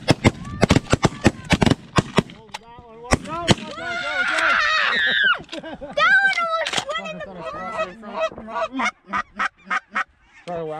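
Loud shotgun blasts ring out in rapid bursts during a snow goose hunt, many sharp reports at the start and again near the end, mixed with honking geese overhead and hunters shouting.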